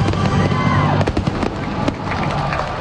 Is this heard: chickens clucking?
no